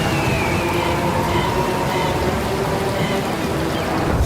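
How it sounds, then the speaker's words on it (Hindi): Heavy rain pours down over a village in an animated horror story, a dense, continuous hiss of falling water that stays loud and even throughout. "बारिश अपने चरम पर थी, जिसकी वजह से गांव में बहने वाली नदी का पानी तेजी से बढ़ रहा था।"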